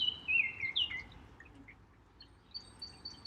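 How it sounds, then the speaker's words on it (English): Birds chirp and sing in the morning, with a few high calls close by near the start and fainter scattered chirps later over a quiet background. "that didn't blow the birds away? Everybody's singing this morning."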